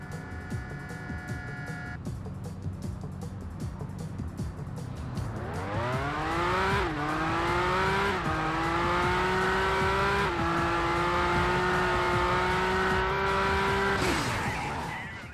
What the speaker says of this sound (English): Let's have a little drive around Nice.